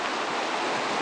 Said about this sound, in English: Me and Ryan, we were just chilling down by the river here,